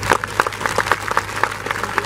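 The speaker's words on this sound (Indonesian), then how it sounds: "Hei, tepuk tangan ini dulu." Scattered audience clapping at an Islamic sholawat gathering in Madiun, Indonesia, a brief burst of uneven, fairly close hand claps with some crowd noise behind it.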